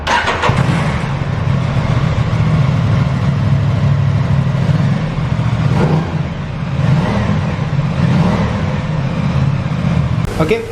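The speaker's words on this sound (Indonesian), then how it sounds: "Untuk yang penasaran sama suara motornya, dengerin di sini ya." An Aprilia RS 660 sport motorcycle engine runs loudly and steadily up close, its rumble rising and falling slightly as it is revved.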